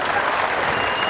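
Strong, dense applause from an audience at a stage event during a 2016 football tournament final ceremony, steady and loud throughout the short stretch with no pauses.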